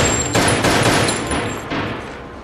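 Loud gunfire in the action film Breakout (2023), a dense burst of rapid shots blending into a roaring, echoing wash that fades slightly toward the end.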